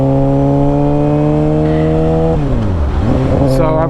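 A 2006 Suzuki GSX-R 750 motorcycle with a warped brake rotor cruises along with a loud, close, steady engine drone under wind rush. The engine briefly drops in pitch, as in a shift or slowing, then settles back into its drone.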